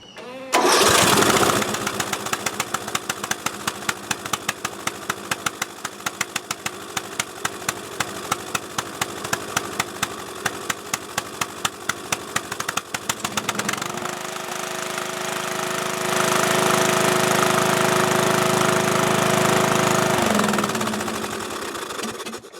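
A Briggs & Stratton lawn mower engine with its valve cover off starts at once and runs loud and rapid, a fast mechanical chatter that shifts into a smoother steady drone partway through before slowing near the end.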